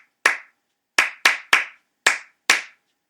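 Six sharp, crisp hand claps, close and dry, spaced unevenly in a syncopated rhythm with short decays and silence between, no voices.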